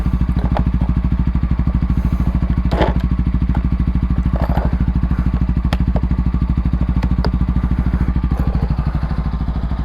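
A Voge 250RR motorcycle with its exhaust removed idles steadily while warming up, a loud, close, rapid unmuffled putter running unbroken throughout, with occasional metallic clicks and clatter on top.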